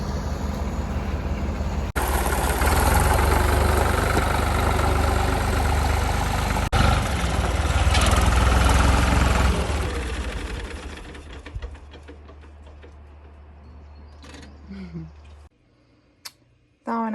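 A tractor engine idles in a steady, close, low rumble for most of the stretch, then drops to a quieter hum near the end before a brief burst returns.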